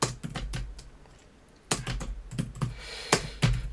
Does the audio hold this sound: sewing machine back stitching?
no